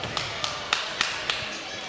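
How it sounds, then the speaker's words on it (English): Sharp impacts in a wrestling ladder match as a wrestler is slammed onto a folded ladder, five loud thuds spaced about a quarter second apart over crowd noise. "Slamming Canada on the ladder."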